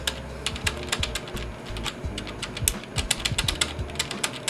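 Rapid clacking keystrokes on a Rosewill RK-9300 budget mechanical keyboard with a titanium frame, steady close-up typing with irregular individual clicks and no voices.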